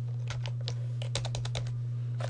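Clicky computer keys are tapped in short irregular bursts while a login is entered on a server for a firewall setup, heard close over a constant low electrical hum, with no voices.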